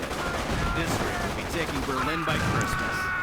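A .30 caliber machine gun rattles in a 1v1 video game match, loud, dense, continuous bursts with mixed battle noise, and a commentator talks over the firing.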